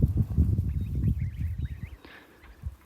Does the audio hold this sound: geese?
yes